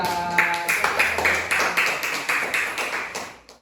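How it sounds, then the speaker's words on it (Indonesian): Students in an Indonesian primary school classroom clap for a group after its song, with brisk, evenly spaced claps repeating in a steady rhythm for a few seconds before fading at the end. "Tepuk tangan untuk kelompok 2."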